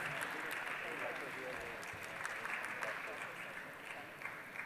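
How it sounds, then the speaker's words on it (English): Audience members at a wellbeing panel event clap for themselves, a moderately faint, continuous spread of applause from a crowd with scattered louder claps, while some talk runs underneath. "Give a huge round of applause to your own self."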